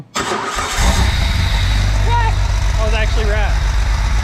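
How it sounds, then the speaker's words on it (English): A used car engine, tested after a repair of a fuel leak and a bare wire, starts abruptly and settles into a loud, steady close idle while a person talks over it. "Engine's on."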